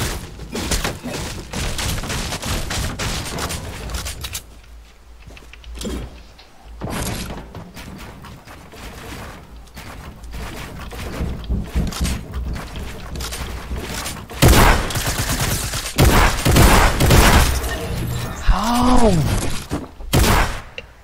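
Gunfire in a Fortnite 1v1 match comes in loud, dense bursts of rapid shots with heavy thumps, breaking off into quieter stretches before more volleys return.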